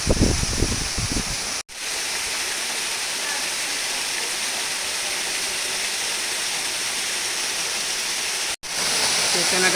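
Tungtong Falls roars as a constant broadband rush of falling water, close and loud, with brief rustling and voice at the start and two short dropouts.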